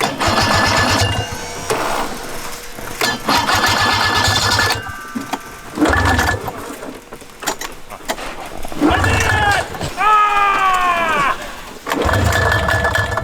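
An old snowmobile engine, abandoned for about 20 years, runs after starting with a buzzing, sputtering idle that surges and drops as the throttle is blipped. It is loud and close, with people talking over it.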